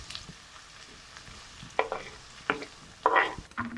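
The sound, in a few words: chopped onion frying and stirred in pan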